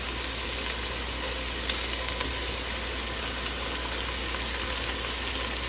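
Onions sizzle and fry steadily in a hot pan, a dense continuous crackle that holds at an even level throughout with no talking.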